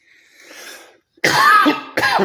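A harsh, loud cough heard up close during a live podcast, two forceful bursts after a faint breathy lead-in, with no talking.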